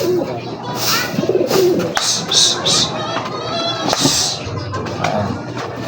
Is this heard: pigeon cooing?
yes